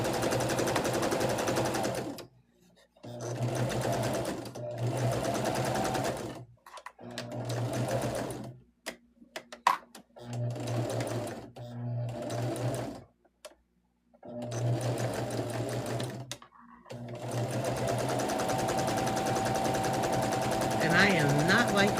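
A sewing machine stitches a 1/4 inch seam on a baby star quilt block, running in several loud bursts of steady rapid needle chatter broken by short pauses, with a longer final run.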